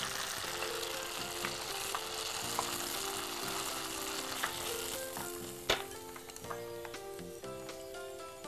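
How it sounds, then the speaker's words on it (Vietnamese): Tofu pieces frying in a pan of oil, a steady close sizzle with small crackles and pops and one sharper spike midway, no voices. "Bây giờ chúng ta sẽ bỏ đậu hũ vào đây. Và chúng ta chiên vàng."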